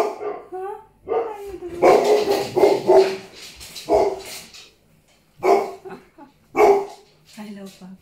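Several small yips and high barks from Presa Canario puppies, close by, mixed with a person talking to them in a soft voice.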